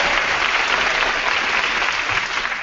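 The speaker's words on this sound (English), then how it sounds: "You can applaud, sure." Audience applause at a live podcast taping, a dense steady wash of clapping filling the whole stretch at even loudness with no talk over it.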